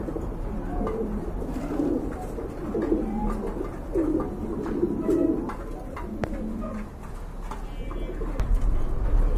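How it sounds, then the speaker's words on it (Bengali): Pigeons, a pair including a black bird and a blue bar bird, coo in repeated low, throaty bursts at close range, with no talking over the calls. "এখানে কিন্তু আরেক জোড়া কবুতর আছে"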